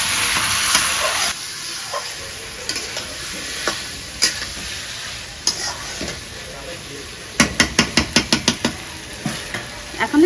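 Rohu fish and cauliflower curry sautéing in a pan, a steady sizzle with spatula scrapes and a quick burst of rapid clicks of the utensil against the pan near the end.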